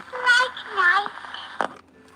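A restored Chatty Baby talking doll speaks at close to its correct speed, a short high-pitched recorded child-like phrase in two bursts followed by a brief mechanical click, heard close and clear.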